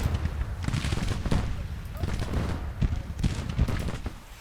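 Musket and artillery gunfire from a Civil War battle at Fairfax in Grand Tactician: The Civil War, heard as dense, repeated cracks and booms rolling on without pause, with distant-sounding volleys layered over one another.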